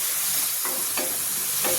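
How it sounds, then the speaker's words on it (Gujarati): Masala pav mixture being stirred in a pan, with a soft steady sizzle and a few scraping strokes of a spoon against the pan. "બધું બરાબર મિક્સ કરી લેવાનું છે"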